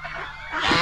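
A single short honking turkey call rises and strengthens over less than a second, loud and close.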